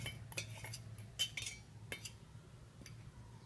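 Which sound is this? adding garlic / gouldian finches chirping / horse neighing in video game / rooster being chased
adding garlic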